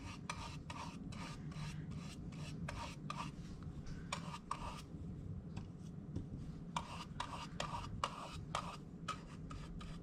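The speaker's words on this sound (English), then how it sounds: "we're just going to give it a good coating of Mod Podge where we want to put the hummingbird." A brush spreading Mod Podge onto a tin can, producing soft, quiet, rhythmic rasping strokes in repeated bursts with short pauses, close up and alone.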